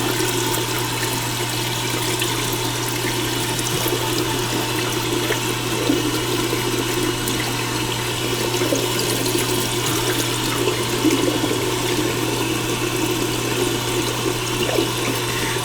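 An old 3.5-gallon toilet with a weak bucket-style flush, broken and due for replacement: a steady, continuous rush of running water with a constant low hum, close and unbroken throughout, with no talking.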